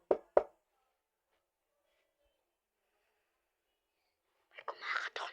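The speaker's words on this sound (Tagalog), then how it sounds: "May kumakatok na naman." Two quick, sharp knocks on a door ring out close together, then a long silence, followed by faint whispering near the end.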